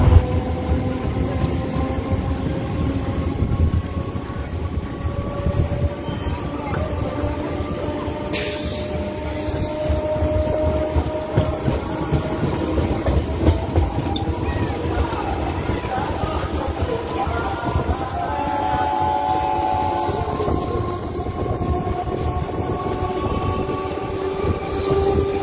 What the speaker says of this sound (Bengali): একদম সঠিক নির্ধারিত সময়ে বৈচি স্টেশন থেকে আমাদের ট্রেন ছেড়ে দিয়েছে